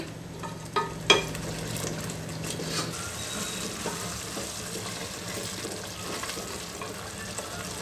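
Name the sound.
frying byadagi chilli paste in oil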